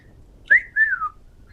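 A person whistles a short rising-then-falling tune at a gaming table, two clear tones close to the listener with a brief gap between them, over quiet room background.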